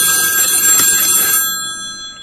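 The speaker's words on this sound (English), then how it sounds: "I think your phone is ringing." A telephone ringtone with a bright, bell-like trill rings loudly up close, then stops and leaves a fading tonal ring.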